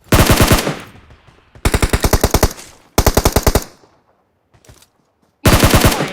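Automatic gunfire in PUBG Mobile: loud, close bursts of rapid shots separated by short pauses and fading echoes, with one brief isolated shot near the end.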